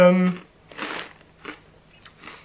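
Crunchy bites and chewing of crispy peanuts with a sesame coating, a few distinct crunch bursts spaced through a close, quiet setting after a brief voice at the start.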